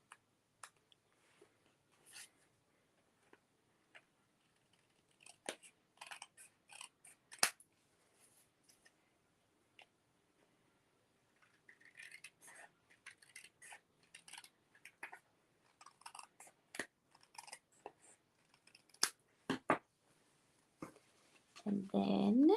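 Scissors snip along the edge of a paper card for a book-fold craft, a scattering of sharp, close cuts and handling noises spread over the stretch, with a louder rustle at the end.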